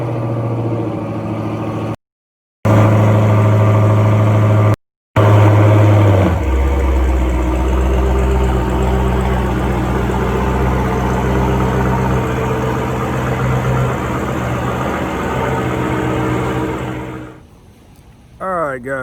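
Dodge Hellcat cold-started after sitting three days, a loud steady engine drone that drops into a deep rumbling idle after a few seconds, holding low and even before fading near the end.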